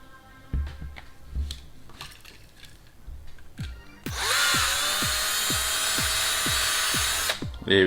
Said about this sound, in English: now I'm going to use my drill.